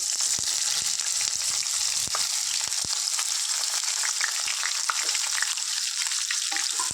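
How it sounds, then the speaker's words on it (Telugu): Sliced onions and green chillies frying in hot oil in a pan, a loud steady hiss and crackle with scattered pops and occasional stirring, close up and without talk. "దీన్ని చక్కగా ఫ్రై చేసుకుందాం ఆనియన్స్ మిర్చి"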